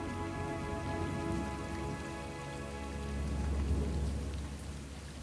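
Monsoon rain falling in the Australian wetlands, a steady diffuse patter with a low rumble underneath and a faint tonal drone, fairly quiet and continuous with no talking.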